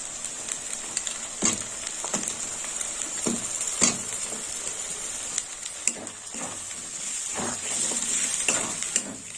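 Two sliced onions, cut into quarters, sizzle steadily in a pan of oil for a mutton curry, with intermittent stirring scrapes and clinks over the constant frying hiss.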